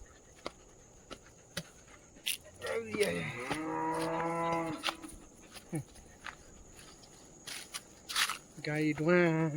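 A cow lows twice in a village, one long drawn-out moo partway through and another starting near the end, fairly close and clear, with scattered clicks and footsteps between calls.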